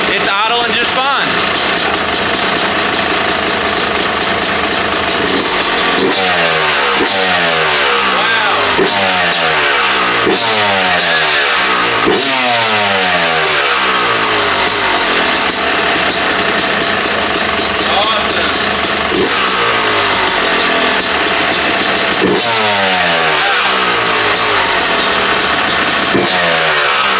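A Yamaha YZ250 dirt bike fitted with a Lectron Pro Series Billetron carburetor runs in a garage, loud and close, holding a steady idle broken by repeated rising and falling revs.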